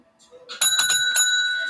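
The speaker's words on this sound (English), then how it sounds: "So I'm ringing the bell again for those that maybe just popped in." A small hand bell rings close up with several quick bright strikes, the last note ringing out and sustaining, after a brief bit of speech beforehand.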